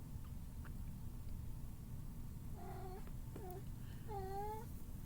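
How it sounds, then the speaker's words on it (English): A house cat meows faintly a couple of times, two short rising calls over a low steady background hum. "there's my cat meowing again"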